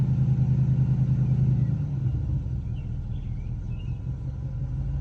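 A 2001 Cadillac DeVille engine idles with a steady low rumble and hum, its tone dropping slightly after the first couple of seconds, heard close and alone.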